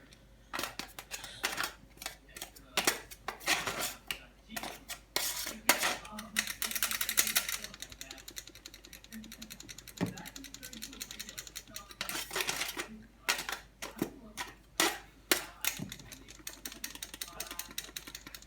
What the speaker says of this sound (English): I'm going to sift it in so there's no lumps